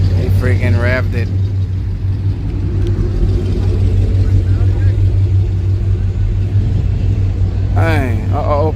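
A V6 turbo car revving at a drag strip, a loud, steady engine drone held throughout, with people talking at the start and end.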